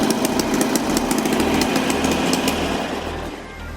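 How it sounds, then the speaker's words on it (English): A Harley-Davidson motorcycle engine idles steadily with a nasty exhaust leak, giving a loud, rough, tractor-like chuffing with rapid ticking puffs close by and no voices. "it makes this bike sound like a tractor"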